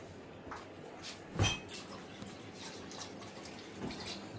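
Water from a glass is poured into a pot of biryani rice, a brief splashing gush followed by faint drips and light clinks in a quiet kitchen.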